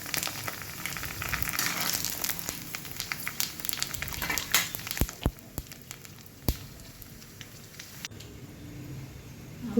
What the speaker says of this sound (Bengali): একটু বেশ লাল লাল করে ভেজে নেবো এই ফুচকাগুলো